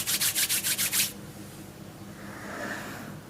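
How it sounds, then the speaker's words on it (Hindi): Hands rub briskly together during a guided breathing and relaxation session, with about seven quick, rhythmic swishing strokes close up, followed by quiet and a softer, fainter rub. "अब अपने हाथों को रब करेंगे"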